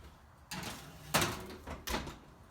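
Kitchen oven door being shut on a tray of sweet potato biscuits: a soft opening rattle, then a firm thump as it closes and a second clunk shortly after, fairly quiet and without talking.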